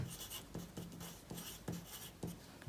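A teacher writes Turkish Black Sea coastal province names on a board, marker or chalk strokes in repeated short bursts with brief pauses between them, close and fairly quiet, with no talking.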